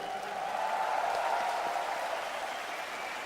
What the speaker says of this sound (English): Thank you guys for cheering for us.